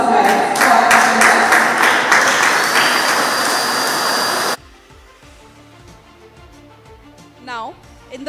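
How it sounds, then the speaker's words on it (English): Loud, dense applause fills a squash finals awards ceremony in Kolkata, a steady wash of many clapping hands that cuts off abruptly midway, leaving quiet room tone with faint speech-like tones afterward. "Let's have a huge round of applause, guys."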